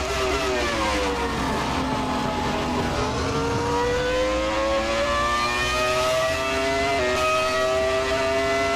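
Ferrari F2004 Formula 1 car engine lapping Monza in the Assetto Corsa game, a loud continuous high-revving whine that climbs through the gears with brief shift drops, alone without talk.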